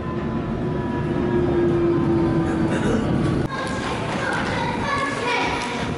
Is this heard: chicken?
no